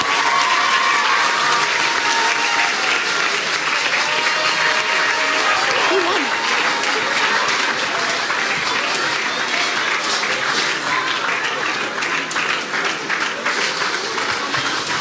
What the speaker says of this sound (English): let's applaud them again